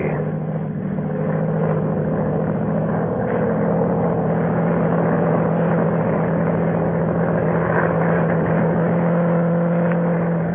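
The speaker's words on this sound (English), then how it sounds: "a monoplane was climbing into the heavens" A monoplane drones steadily as it climbs and flies low overhead, its engine a loud, continuous hum that holds without a break from start to finish.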